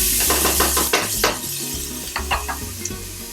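Chopped carrots and celery, cut in half-inch pieces, hit a hot pot for vegan tortilla soup, sizzling steadily while a utensil scrapes and stirs in repeated clattering strokes close by.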